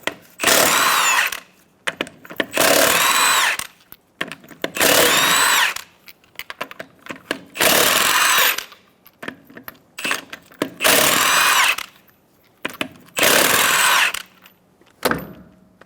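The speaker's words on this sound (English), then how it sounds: "Using a 22mm socket, remove the 6 lug nuts." Impact wrench with a 22mm socket spinning off the six lug nuts from a rear wheel of a 2014-2018 Chevrolet Silverado 1500: six loud, separate bursts of buzzing rattle, each about a second long, with short quiet gaps and light clinks between them.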